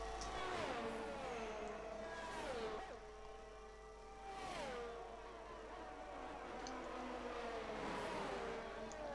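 Ferrari race car in a racing video game at Miami, its engine rising in pitch through repeated gear shifts, faint and steady, with no talk.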